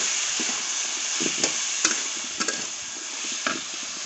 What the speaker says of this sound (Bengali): উচ্ছে আলুগুলো দিয়ে দেবো। দিয়ে দেবো লবণ, ভালো করে ভেজে নেব।